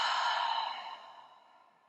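A single long, full exhale during a guided meditation, breathy and soft, loudest at the start and fading gradually to quiet over about two seconds.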